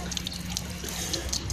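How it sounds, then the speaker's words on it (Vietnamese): Water runs steadily from a mechanical smart float valve once it is connected to the supply line and flushed, a continuous close splashing flow with a faint low hum beneath. "kết nối với đường nước và xả nước thì nước này nó chảy ra đây này"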